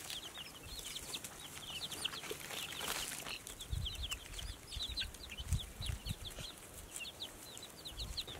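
Small chicks in a garden enclosure peep and cluck in a busy stream of high, quick chirps, with occasional soft rustling and low thumps nearby.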